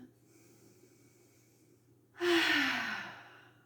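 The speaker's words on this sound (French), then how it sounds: "Et souffler par la bouche fortement." A yoga practitioner takes a quiet breath and then blows out a single forceful exhale through the mouth, loud and close.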